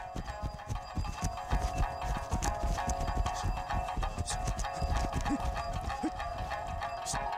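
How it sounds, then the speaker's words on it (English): Mustang horse hooves clop along in a quick, even ambling rhythm at a moderate distance, with faint background noise and no talking. "the horse lifts its two legs on the same side of its body at the same time"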